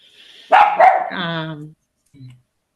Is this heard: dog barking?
yes